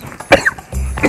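A man coughs in a short, close burst of two or three harsh hacks during an indoor drinking challenge, loud and isolated, with no other sound around it.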